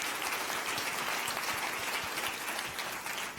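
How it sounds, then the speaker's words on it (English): Audience applause after a round of startup pitch presentations at a food industry event, dense steady clapping filling the room throughout, fairly loud and unbroken. "Let's get another round of applause for them."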